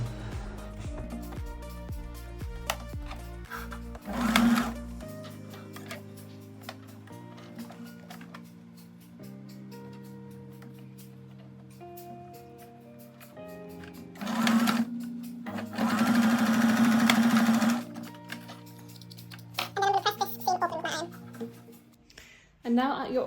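A sewing machine stitches the centre back seam of dress back facing pieces in several runs, whirring steadily in bursts with pauses between, close and clear, while someone talks over parts of it.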